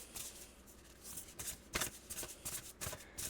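A deck of tarot cards taken out and shuffled, giving a quiet run of soft riffling slaps and papery flutters in an irregular rhythm, close and faint with no talking.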